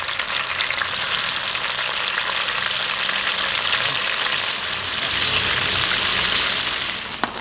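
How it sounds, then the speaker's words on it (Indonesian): Coriander-seasoned chicken pieces deep-frying in hot oil, a loud, continuous close-up sizzle with dense crackling that holds steady throughout and no talking. "Oke, kita goreng, guys."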